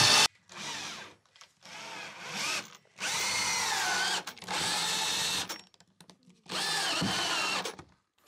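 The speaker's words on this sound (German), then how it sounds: "Wie heißt diese Bohrtechnik, die du da anwendest?" A power drill whirs in several bursts of a few seconds each, close and loud, biting into wood panelling inside an Iveco camper van, with short pauses between runs.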